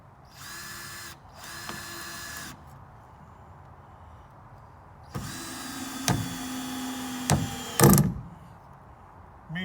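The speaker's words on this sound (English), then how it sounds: "I'm gonna drive like one or two screws into this" Power drill driving one or two screws into wood, with two short whirring bursts early and a longer, louder drive later that ends in sharp clicking and grinding as the screw seats, close up and with no talk.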